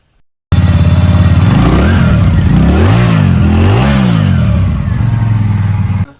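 A 2026 Keeway V302C motorcycle with a 2x1 exhaust starts up loud and close, then idles and revs twice in rising and falling throttle blips before settling back to a steady rumble.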